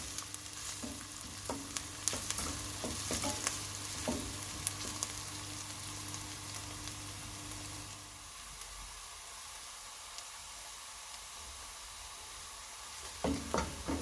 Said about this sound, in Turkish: Şimdi bunları soğanları güzelce kavuruyoruz.